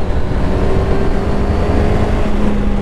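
QJ Motor SRK 800RR sport-touring motorcycle engine pulling hard from around 5000 rpm, a loud steady droning roar with rising engine tone heard close up on the road.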